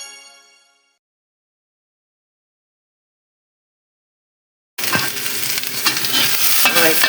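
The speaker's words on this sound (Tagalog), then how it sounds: "ginisa natin siya sa sibuyas na puti, bawang at luya" Chicken feet sautéing with white onion, garlic and ginger in a pan for chicken feet adobo, a loud steady sizzle that starts abruptly after a long silence, with stirring scrapes breaking through the hiss.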